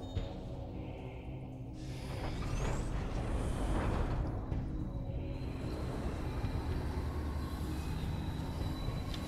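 A train ride in the video game Metroid Prime 3: Corruption, a steady rumbling rail-car drone with a hissing air-brake-like swell near the start and a sustained mechanical hum continuing to the end.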